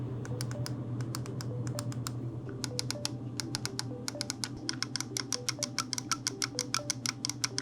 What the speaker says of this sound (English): the smaller L2 and R2 shoulder buttons are a little harder to press in and have a deeper and louder click